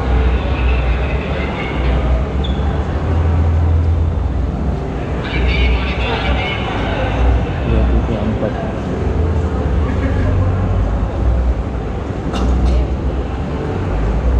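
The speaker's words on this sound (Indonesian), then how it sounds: "Ini mesin keretanya ini loh." Eight-cylinder diesel engine of a KRDE railcar running at a railway festival, a loud, steady low rumble with rattling and clatter throughout, while people talk nearby.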